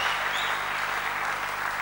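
A church congregation clapping in praise of the Lord during a French and Swahili sermon: dense, steady applause from many hands throughout, fairly loud and continuous.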